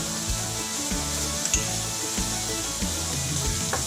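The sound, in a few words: steak sizzling in a pan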